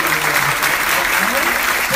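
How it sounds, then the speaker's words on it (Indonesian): Applause at a child's birthday party breaks out right after the candles are blown out, a steady close patter of clapping from a small group of guests with some voices mixed in. "Tepuk tangan dong."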